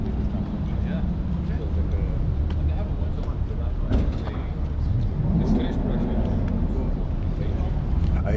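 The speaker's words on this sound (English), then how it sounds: "I hear some cars coming in" Car engines idle and rumble as vehicles pull onto an open rooftop lot for a car meet, a steady broadband drone with passing swells and occasional sharp knocks, fairly distant.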